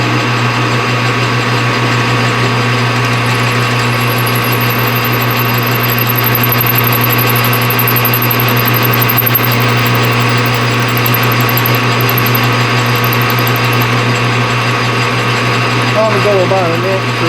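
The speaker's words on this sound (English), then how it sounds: "I'm going to drill this an inch deep." A drill bores a hole an inch deep for a carburetor breather stud. It gives a steady, loud mechanical whine with a constant motor hum that runs unbroken throughout.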